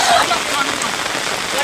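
Steady rain pours down on an open farm field, a dense, even hiss of drops hitting the ground that holds constant and fairly loud throughout, with no voices.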